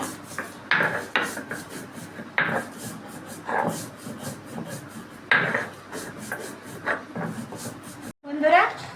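Roasted spices ground on a shil grinding stone, with repeated scraping, rubbing strokes and occasional knocks in an uneven rhythm, close by, while a person talks over much of it.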